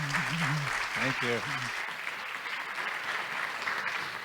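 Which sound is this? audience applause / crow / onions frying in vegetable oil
audience applause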